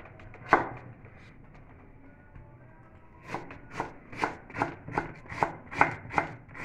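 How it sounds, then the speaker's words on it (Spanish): Knife chopping lettuce on a cutting board, a few isolated cuts at first and then a steady run of crisp, rhythmic chops close by, with no talking. "voy a picar la lechuga"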